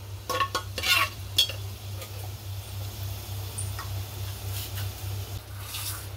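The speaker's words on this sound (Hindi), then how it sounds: "ये देखिए ये अच्छे से क्रैकल होने लगे हैं" Whole cumin, bay leaf, black and green cardamom, peppercorns and cloves crackle in hot oil inside a pressure cooker, with a few sharp pops and clinks early on over a steady low hum and faint sizzle.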